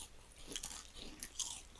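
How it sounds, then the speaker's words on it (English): A few soft crunching bites of dried meat being eaten in Medieval Dynasty, quiet, close chewing sounds spread over a couple of seconds with no talking. "Let's eat a couple dried meat."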